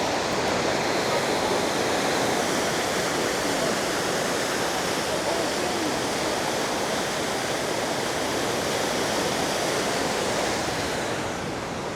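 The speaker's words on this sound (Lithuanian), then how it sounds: "Tai ta upė va tokia, va patvinus." A flooded, muddy river rushing in Kutaisi, Georgia, heard as a loud, steady, broadband roar of churning water that holds unbroken throughout, with no talk.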